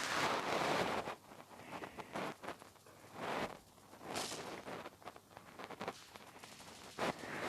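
Bursts of gunfire in a CS GO-style shooter, several sharp rapid volleys and single shots separated by brief pauses, loud and close with a windy background rush.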